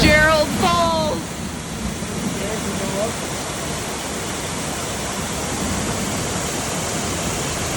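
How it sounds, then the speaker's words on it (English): Steady, broad roar of Fitzgerald Falls on the Appalachian Trail rushing constantly, with a voice speaking briefly near the start above the water. "we fell asleep to the sound of the waterfall"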